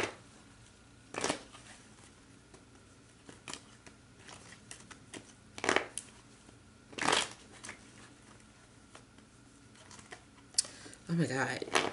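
Tarot cards shuffled by hand, with several short papery riffles and slaps spread across the stretch and a louder flurry of cards spilling out near the end, over a faint low background.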